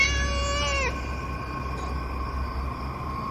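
A cat meows once, a drawn-out, wavering cry that ends abruptly, followed by a low rumbling background drone in a horror audiobook scene.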